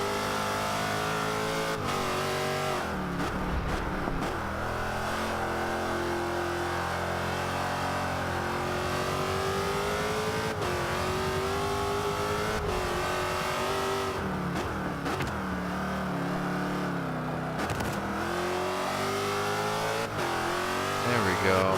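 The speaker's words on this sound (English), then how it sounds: "Hard on the throttle after the apex." A Jaguar XKR-S in Forza Horizon 5 accelerates hard out of a corner at Catalunya, its engine roaring loudly and continuously as revs climb and drop through gearshifts, with someone talking over it.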